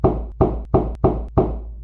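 Knocking on a wooden door in a narrated fable: five firm, evenly spaced knocks, loud and close, with nothing else around them.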